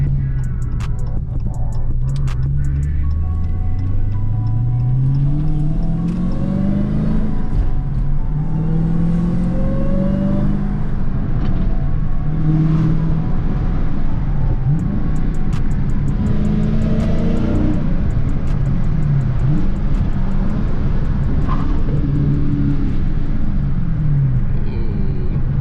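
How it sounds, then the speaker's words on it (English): A car engine revs and drops through downshifts, rising and falling in loud, repeated sweeps with a distinct mechanical whine layered over the rumble, close and continuous throughout. "But let's get it to whine. The downshift! That downshift though!"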